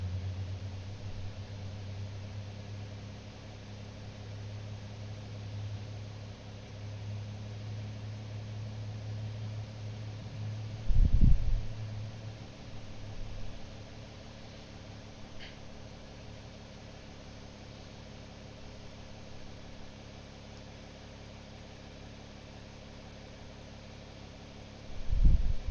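An aircraft engine starting and running, heard as a steady low droning hum throughout, fairly distant and muffled, with a louder low thump partway through and another near the end.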